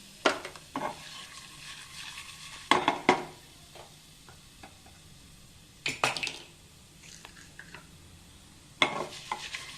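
Mustard seeds and curry leaves tempering in hot oil for a raw banana curry: a faint, low sizzle underneath, punctuated by several loud, short clanks and scrapes of a spoon against the pan.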